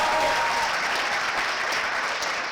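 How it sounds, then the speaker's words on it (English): A dense round of audience applause fills an award ceremony hall, continuous and even for its whole length with no voices over it. "But a big round of applause."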